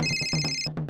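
A phone ringtone plays close and clear, a bright repeating electronic tone pattern with steady pulses, alone without any talking.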